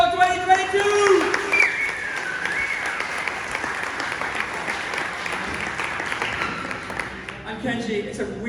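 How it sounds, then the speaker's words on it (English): Audience applause and cheering open a bartending show at the Mediterranean Bar Show 2022, a steady crowd clapping under a host's amplified voice and background music, fading near the end. "let's hear a huge round of applause for the opening show of the Mediterranean Bar Show 2022!"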